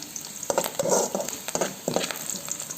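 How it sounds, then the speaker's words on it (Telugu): Onions sizzling in hot oil with mustard seeds and cumin while being stirred, a crackling fry broken by scraping stirs and small clatters, close and moderately loud, with no voices. "ఆనియన్స్ వేసేసుకొని కాసేపు వేయించుకుందాం"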